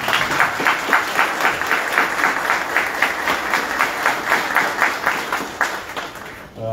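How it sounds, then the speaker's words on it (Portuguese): An outdoor crowd at a Christmas launch event claps steadily for a local community group, a dense, even applause that holds for several seconds before fading at the end. "dá uma salva de palmas lá para o pessoal do Rio Branco"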